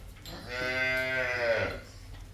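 A dairy cow at a farm sale, where freshly calved and pregnant cows with a Jersey cross are offered, gives one loud, close moo lasting over a second, with no talking.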